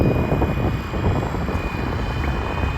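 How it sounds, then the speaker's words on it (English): Flywing Bell 206 V3 RC scale helicopter flying a figure 8, its rotor and motor making a steady, loud, continuous whine and buzz close by throughout, with no talking. "I'm gonna go down on this switch and the helicopter should do a figure 8"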